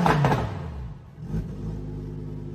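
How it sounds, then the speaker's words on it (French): Ferrari sports car with its exhaust opened in sport mode, a loud low rumbling rev that swells at the start, dips briefly and rises again into a steady close engine drone. "enfin il a ouvert l'échappement en mode sport"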